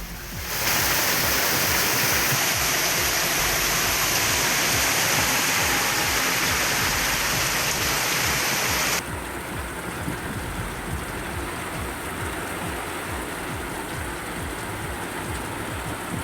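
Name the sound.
heavy rain pouring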